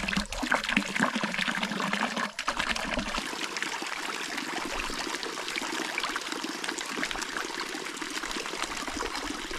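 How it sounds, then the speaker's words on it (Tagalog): Water flows steadily to feed tilapia and koi ponds, a continuous splashing, trickling rush that stays close and constant throughout, with no talk. "Yung tubig na to, ito po yung bumubuhay sa ating mga alagang tilapia dito, sa ating mga alagang koi."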